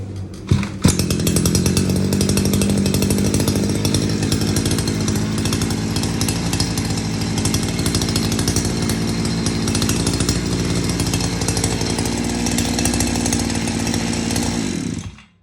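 Small 2-stroke petrol engine on a Goped-style scooter catches after a quick pull and runs at a loud, buzzing, chainsaw-like rev for about fourteen seconds before cutting off abruptly.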